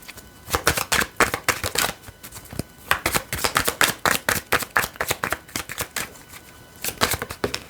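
Tarot cards being shuffled and turned over by hand, a dense run of quick crisp riffling snaps and flicks close up, continuing steadily with brief pauses and no talking.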